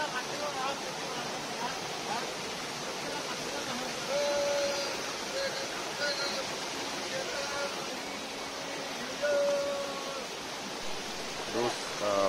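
A secret waterfall in Hamren pours steadily in an even, hissing rush, moderately distant, with faint voices and a few short whistles or calls drifting in over the water.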